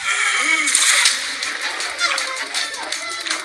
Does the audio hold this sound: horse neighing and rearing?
no